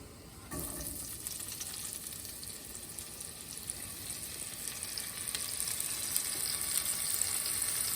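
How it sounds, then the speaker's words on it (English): Onions and leeks hit hot bacon fat in a pan and burst into a loud, steady sizzle that starts suddenly and continues as a bright, crackling hiss, close and unbroken, with no voices. "Now we'll add these onions and the leeks into our bacon fat"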